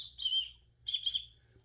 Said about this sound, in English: Whistle's okay, whistle works.